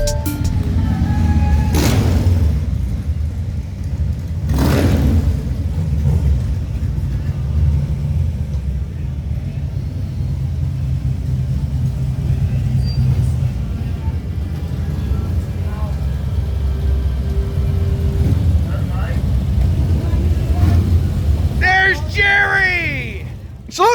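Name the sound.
motorcycle engine while riding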